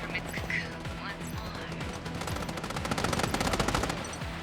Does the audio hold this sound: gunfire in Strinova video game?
yes